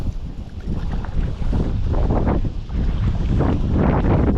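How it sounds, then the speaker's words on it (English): Strong gusts buffet the microphone on a small fishing boat out on the water, a loud, continuous roar that swells and dips in waves. "that wind is a whipping"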